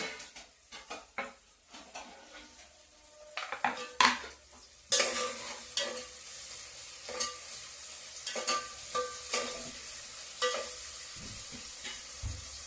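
Curry leaves drop into hot oil in a pan while upma is being made, giving a sharp burst of crackling sizzle amid stirring and clinks of a spoon against the pot, close and fairly loud.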